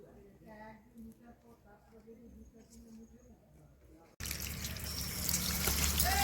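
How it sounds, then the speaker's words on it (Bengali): Someone talks quietly at first, then water abruptly gushes loudly and steadily as fish pieces are washed by hand in a kitchen for a fish kosha curry. "এবারে মাছগুলোকে আমি ভালো করে ধুয়ে নেব"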